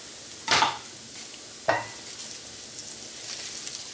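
Two tablespoons of butter go into a hot pan of fried onions: two sharp, close splatters, then a low, steady sizzle simmering underneath, with no talking.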